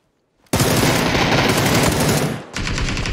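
Sustained automatic gunfire from a video game, a dense rapid burst lasting about two seconds, a brief pause, then another loud burst, with no talking.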